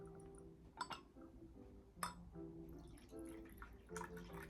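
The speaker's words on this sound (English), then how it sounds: "Well, let's pour out." Tea is poured from a pot into a teacup at a table, giving a soft, continuous trickle broken by a few sharp clinks of china, with no voices.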